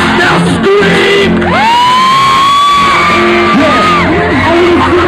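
A concert crowd screams on command at a live show in York, a loud sustained mass of yelling and whooping that swells for several seconds, with a single long rising shout on top.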